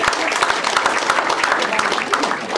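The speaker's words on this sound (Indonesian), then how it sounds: "Berikan tepukan gemuruh." A crowd claps at a Sabah football team's player introduction ceremony with guests of honour, individual claps audible in an uneven patter at moderate volume, with a voice speaking over it.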